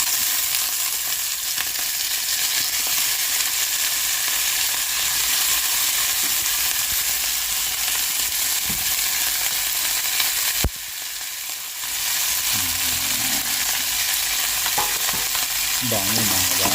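Seafood fries loudly in a pan with golden-browned aromatics, a bright, constant close-up sizzle broken by a few clanks of stirring near the end.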